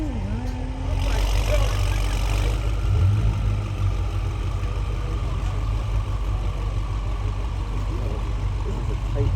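A car rolls into a cramped parking lot at a rainy car meet, its engine a steady low rumble with a slight rise in revs, while people talk over it.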